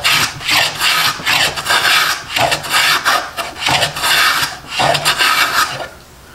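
Stanley rabbet plane taking thin shavings from wood, a run of repeated rasping strokes in a steady back-and-forth rhythm, each stroke swelling and fading, close and alone.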